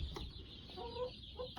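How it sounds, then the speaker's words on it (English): Chickens cluck inside a backyard coop, a few short, close calls rising over a steady low background rumble. "All you chickens here?"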